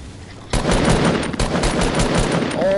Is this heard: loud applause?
no